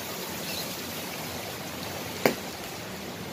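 Steady, dense rain hiss fills the scene at a moderate distance, with a brief sharp knock partway through; no voices.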